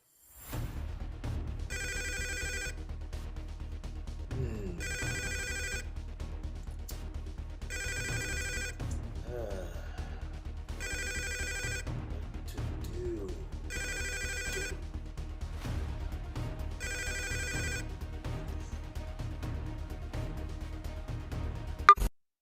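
A telephone rings in a video game, sounding in six evenly spaced, loud electronic bursts over a steady bed of game music and background sound.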